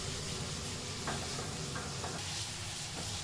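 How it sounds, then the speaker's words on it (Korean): Soy-based meat stir-fried over high heat in a kitchen sizzles in a dense, steady hiss, with faint stirring and scraping clicks scattered through and no talking. "강한 화력으로 재료를 볶는 조리장."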